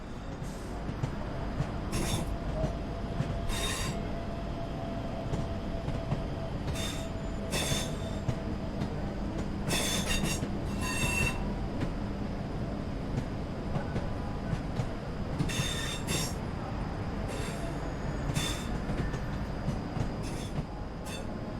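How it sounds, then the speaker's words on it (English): A Class 323 electric multiple unit rolls into Birmingham New Street on a wet summer day, with a steady rumble of wheels and recurring sharp metallic squeals and clicks throughout, heard up close on the platform. "Here seen is 323-209 heading into Birmingham New Street on a wet summer's day of the 26th of July 2023."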